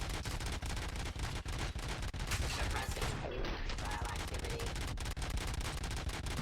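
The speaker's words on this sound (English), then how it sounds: "This sounds awful because it never stops. My gun fires forever." Nonstop automatic gunfire from RoboCop's gun in the video game RoboCop: Rogue City, a dense, loud, unbroken rattle of shots running the whole way with mechanical clatter mixed in.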